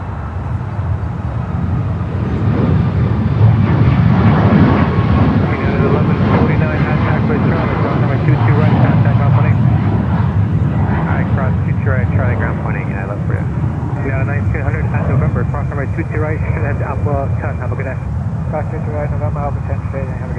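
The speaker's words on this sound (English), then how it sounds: "And we will follow more takeoffs here on runway" Airliner taking off from runway 22 right at Newark Liberty airport, a loud sustained jet engine roar that holds steady throughout.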